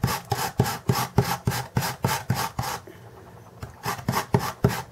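Stick of chalk shaved into powder on a brand-new grater from Dollar Tree, giving steady rhythmic rasping strokes, about two per second, with a brief pause midway before the scraping resumes.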